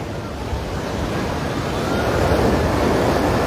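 Ocean surf rolls in at a Hawaii beach during a hurricane, a steady loud wash of breaking waves and wind noise that builds slightly toward the end, with no voices.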